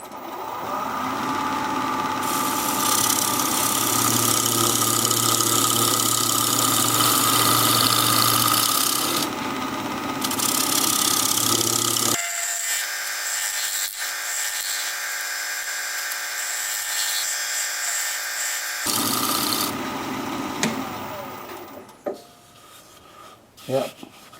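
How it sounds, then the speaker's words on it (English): A steady scraping hiss of a tool cutting spinning wood on a lathe, with a continuous motor hum; the cutting stops partway, then resumes before fading. "switch to the scraper"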